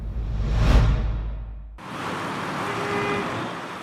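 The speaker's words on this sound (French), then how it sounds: "Sur l'autoroute Fidel Castro ce mercredi, la circulation a repris son cours normal." Motorway traffic on a city highway, one vehicle whooshing loudly past close by, followed by a steady roar of passing cars and trucks, no talk.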